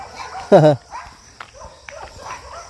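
A single short, angry dog bark rings out, loud and close, followed by quieter background noise and faint scattered sounds.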